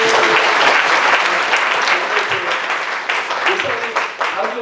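A church congregation at a pastors' seminar breaks into loud, full applause for standing children and pastors, a thick, continuous wash of clapping that tapers slightly toward the end.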